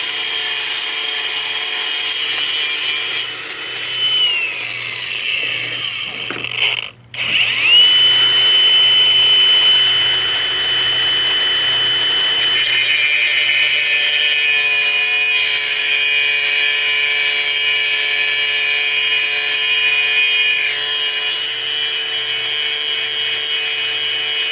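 A power tool cuts down steel bolts near a nylon lock nut, a loud, sustained high-pitched grinding whine that runs almost continuously with a short break partway through, then resumes at an even pitch.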